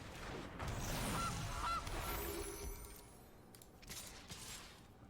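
Goose honk effect from the Gilded Goose card in a Magic: The Gathering video game, a couple of short nasal honks in the first two seconds over a busy game soundscape, fading into quieter chimes.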